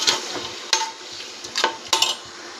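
Chicken with lemon juice being stirred in a cooking pot for biryani, a spoon scraping in four sharp strokes over a soft steady sizzle, close and clear with no talking.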